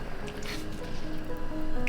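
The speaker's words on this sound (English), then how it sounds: "Then you add a little bit of water" Water pours into a pan of meat and chili powder while cooking nan gyi thoke noodles: a soft, steady wet splashing and trickling close by, lasting about two seconds with no voices.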